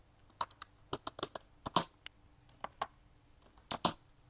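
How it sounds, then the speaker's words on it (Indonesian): Computer keyboard typed on in short irregular bursts of crisp clicks, close and quiet, with a brief pause midway and a final cluster of keystrokes, no talk. "Dengan cara kita mengetik"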